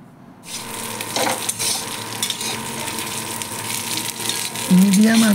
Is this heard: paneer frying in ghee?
yes